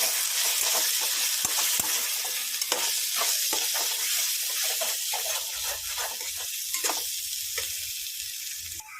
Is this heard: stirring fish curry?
yes